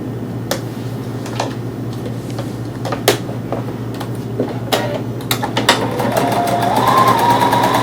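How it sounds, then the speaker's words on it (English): A Bernina sewing machine stitches two pieces of fabric placed right sides together, giving a steady mechanical hum broken by a few sharp clicks, then a faster whirring run that builds near the end. No talking. "this Bernina already locks the stitches at the beginning, so I don't have to worry about reversing in the beginning"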